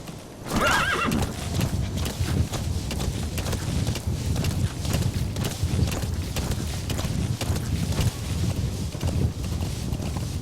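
In the video game Metal Gear Solid V: The Phantom Pain, a horse whinnies sharply, then hooves pound in a fast, steady rhythm, loud and close, with wind noise behind.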